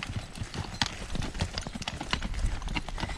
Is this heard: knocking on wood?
no